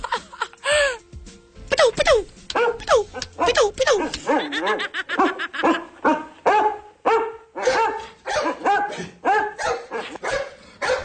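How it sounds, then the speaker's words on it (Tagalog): A dog barks repeatedly inside a live radio studio in Metro Manila, short sharp yips and barks coming in quick bursts, with people laughing and talking around it. "Ang laki ng aso mo, ha?"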